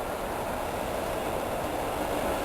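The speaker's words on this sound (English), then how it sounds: "So there's a train which is going to Wannsee" A passenger train runs along a platform at Berlin Friedrichstrasse station, giving a steady, loud rumble and rolling noise that holds evenly throughout with no voices.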